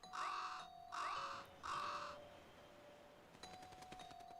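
A bird in the video game Fantasy Life gives three loud, evenly spaced caws, then a quieter run of rapid clicking game sounds.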